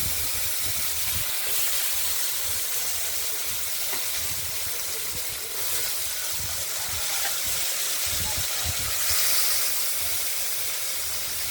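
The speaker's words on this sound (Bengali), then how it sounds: "আলুগুলোকে তেলের মধ্যে আমরা দিয়ে দিলাম" Potato pieces fry in hot oil, first lightly, for a thin tilapia curry, giving a loud, continuous close-up sizzle and hiss with faint stirring knocks underneath. No speech.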